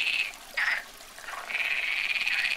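Common frog croaking in a rural garden fountain, a few raspy calls in short bursts with a longer sustained croak at the end, fairly close and clear with no voices.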